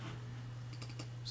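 A handful of quiet, close keystrokes on a computer keyboard click in a short run over a steady low electrical hum, with no voice present.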